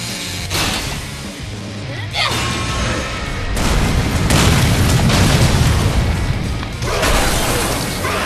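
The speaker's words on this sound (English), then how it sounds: "It sucks when things explode." Explosions in the video game Lollipop Chainsaw hit as a series of loud, close booms and crashes, with several heavy bursts and a sustained rumbling roar between them.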